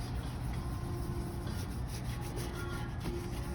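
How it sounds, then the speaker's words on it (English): Polish rubbed by hand onto a white leather boot gives a steady, close scrubbing and rasping sound with no pauses, heard alone. "So just continue rubbing throughout."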